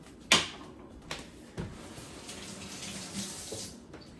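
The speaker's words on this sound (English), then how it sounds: "give the apple a rinse" An apple is rinsed under a running kitchen tap, giving a soft continuous splash of water with a sharp knock at the start and a couple of light thumps, close and quiet, no speech.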